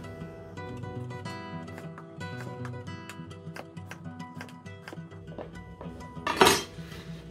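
A metal pot clanks and rattles against cutlery and dishes in a kitchen while swordfish is prepared, with repeated clinks building to one loud, sharp bang near the end.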